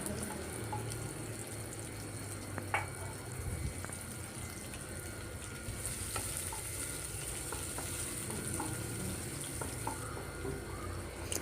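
Finely chopped onion, half of a medium one, sautés in oil with a faint, even sizzle throughout. Soft stirring ticks are scattered across the steady hiss.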